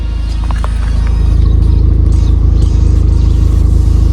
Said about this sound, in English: So the car's just started.